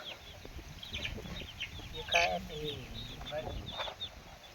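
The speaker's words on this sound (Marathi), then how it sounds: "कोंबड्याला" Free-range village chickens on a farm combined with fish farming, clucking in short repeated calls at moderate distance over steady background noise, with one louder squawk in the middle.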